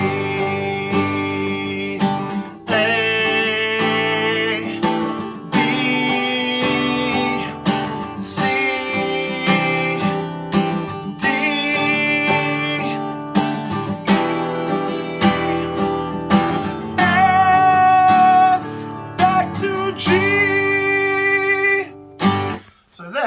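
An acoustic guitar plays a simple chord-based melody, strummed and picked in steady phrases with brief pauses between them, close and clear with no talking.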